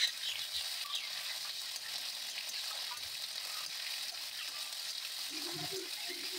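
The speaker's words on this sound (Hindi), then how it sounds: "इसके बाद हमें इसे 3 से 4 मिनट लगातार चलाते हुए हमें इसे फ्राई कर लेना है" Drumsticks, potatoes and tomatoes fry in a pan while being stirred, producing a continuous, fairly faint high sizzle with occasional soft knocks of the spoon.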